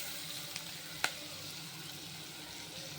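Low, steady sizzle of onions frying in a pan as potatoes go in, with a sharp clack of a utensil against the pan partway through.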